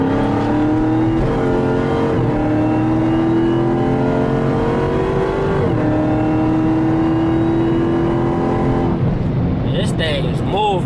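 A Dodge Charger Hellcat accelerates hard in manual mode, its engine note climbing loud and close through several gear shifts in a long rising pull, then easing off near the end.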